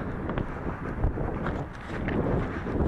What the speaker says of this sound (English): being that we're right on the coast here, we are getting a sea breeze